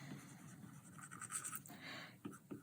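A stylus writes on a tablet in the GoodNotes 5 app, a faint soft scratching of quick strokes in short bursts, with light taps toward the end and no talk.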